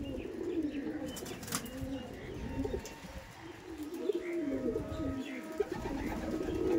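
A pair of Madrasi Kalshira pigeons coos softly at close range, the low murmuring calls repeating steadily over a faint background with a few brief chirps.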